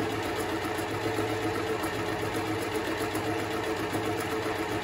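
A Privileg Super Nutzstich 5010 sewing machine runs a 3 mm zigzag stitch with a fast, even mechanical whir and hum, close and continuous, with no talking.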